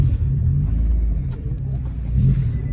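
A Porsche 996 GT3 engine gives a deep, steady low rumble, close and loud, holding at a fairly even idle-like level throughout the short moment with no voices.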